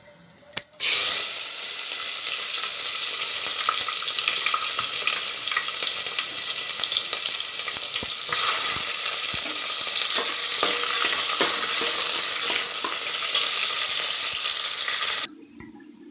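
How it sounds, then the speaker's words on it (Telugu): Onions frying in hot oil with cinnamon and cloves for vegetable pulao, a loud continuous close sizzle with hissing and crackle, starting abruptly and cutting off near the end, no voices. "ఇప్పుడు వచ్చేసి ఆనియన్ వేసుకున్నాను"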